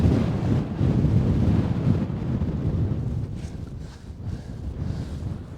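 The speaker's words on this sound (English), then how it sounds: "So apart from the wind, it's all good." Strong wind buffets the microphone on a Scottish mountain ridge at Kintail near A' Chralaig and Mullach Fraoch-choire, a loud low rushing roar that swells and eases in gusts throughout.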